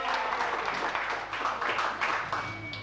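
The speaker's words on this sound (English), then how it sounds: "Clap your hands!" Hand-clapping at a first birthday party for Abel, a steady patter of claps from a small group of guests, fairly close, with faint voices mixed in.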